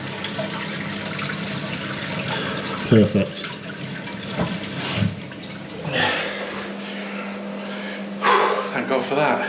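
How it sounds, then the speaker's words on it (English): A toilet flushes after a plumbing repair on a pan reset onto its lugs, water rushing and refilling steadily up close through the clip while a person speaks briefly over it. "So let's give it a flush and see what happens."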